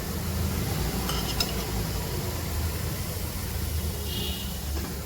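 Taro root (seppankizhangu) roasts uncovered in a pan with a steady, close, even sizzle throughout and no talking.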